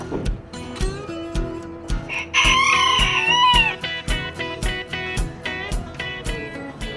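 Chickens and roosters at an outdoor chicken swap in downtown Loris, with a prolonged rooster crow rising over a busy bed of clucking and repeated percussive knocks, fairly close and loud.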